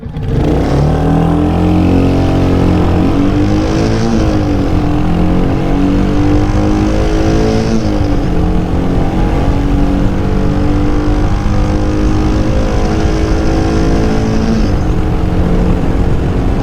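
A Royal Enfield motorcycle accelerates hard from a standstill through its gears, the loud steady engine note climbing and dropping with each shift, plus heavy wind rush across the whole run.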